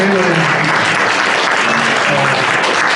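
An audience at a memorial service and book publication ceremony applauds Dr. Lee Nam-seok, loud continuous clapping filling the whole stretch, with faint voices beneath.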